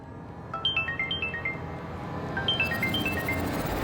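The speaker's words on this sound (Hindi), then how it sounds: "ये किसका फोन बज रहा है?" A mobile phone ringtone plays in a home setting in a Hindi TV serial scene, a repeating melodic phrase of chiming tones that starts after a moment and continues steadily, moderately loud against faint room background.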